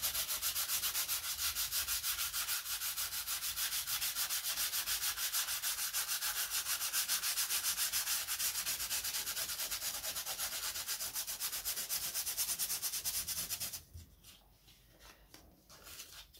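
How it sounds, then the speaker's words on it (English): Fine sandpaper rubs steadily across dried wall filler in a continuous, close, rasping scrub that runs evenly for most of the stretch, then stops abruptly, leaving faint quieter scuffs. "very finely sand it off using very fine sandpaper."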